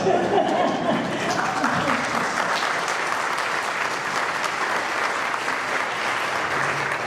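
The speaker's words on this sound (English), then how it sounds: "You got to clap over here, so that's for y'all." Sustained applause from an audience at a Minnesota hall of fame induction ceremony, steady dense clapping that fills the room with a few faint voices and chuckles mixed in.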